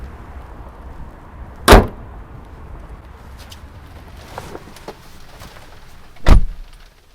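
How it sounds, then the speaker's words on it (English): The bonnet of a 2020 Mercedes-AMG C63 S estate shuts with a sharp, loud thud, followed by a second heavy slam a few seconds later, with quiet rustling in between. "So let's close the bonnet"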